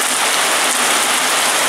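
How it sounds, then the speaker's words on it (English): Heavy rain pours down in a dense, steady hiss, loud and close with no break. "like a heavy downpour"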